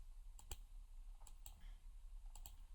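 Three quick pairs of crisp computer mouse clicks, faint and close, spaced evenly over a quiet background hum.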